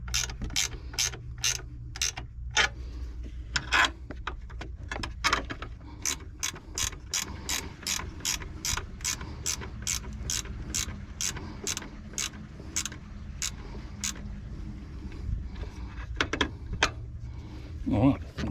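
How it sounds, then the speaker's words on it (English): A spanner ratchets on nuts on a 2008 Nissan X-Trail T31 2.5-litre engine, with bursts of sharp rapid clicks in irregular runs, close up, while a person talks intermittently. "I'll get a spanner and then tighten your nuts back up."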